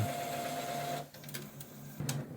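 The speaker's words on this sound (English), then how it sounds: "You're gonna hear the printer making some noises, and this is perfectly normal." A Brother MFC-J1360DW inkjet printer whirs and hums as it starts up, holding a steady mechanical tone before it stops and gives way to a few quiet clicks and a short motor buzz.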